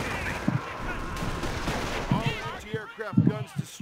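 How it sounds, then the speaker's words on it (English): Mortar and gunfire in the Company of Heroes video game give repeated short, punchy blasts mixed into a busy battle soundscape, while a player talks over the action. "That's a good mortar."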